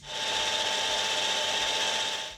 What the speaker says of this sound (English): First, I'm roughing down the stock to the largest diameter in a couple of passes.